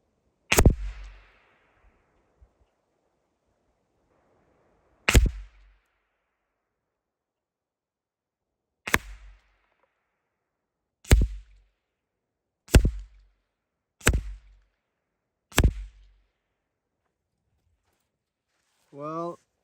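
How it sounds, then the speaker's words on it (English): Seven sharp, loud rifle shots fired without a moderator ring out outdoors, spaced irregularly a few seconds apart, each with a short echoing tail, and a voice is briefly heard at the end. "But I'm gonna shoot here without the moderator."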